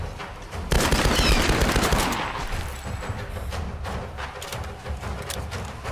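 Gunfire from Tomb Raider Definitive Edition, a loud burst of rapid shots followed by continued crackling fire and impacts over a rumbling background, close and sustained.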